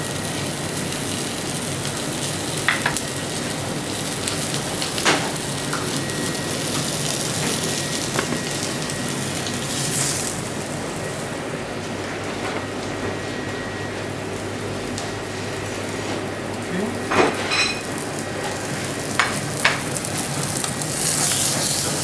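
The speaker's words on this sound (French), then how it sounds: "J'ai pris juste un demi-lobe de foie gras qu'on va assaisonner fleur de sel, poivre. Je vais mettre tout de suite dans la poêle" A half lobe of foie gras seasoned with fleur de sel and pepper sears in a hot pan, giving a steady close sizzle with occasional louder pops and spits throughout.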